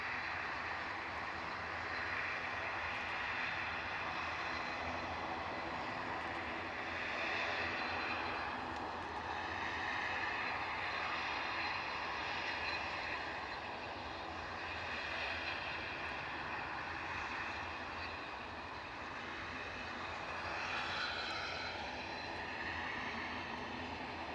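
A Loganair ATR 42-500 turboprop at Aberdeen airport gives a steady, distant engine drone that holds throughout at a moderate level, with a faint tonal whine shifting slightly in pitch.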